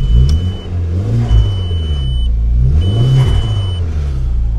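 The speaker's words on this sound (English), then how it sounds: "Oh, that's got some turbo flutter" A VW Golf Mk4 with the 1.8 20v turbo engine starts and revs close by, its engine note rising and falling in surges with turbo flutter between them.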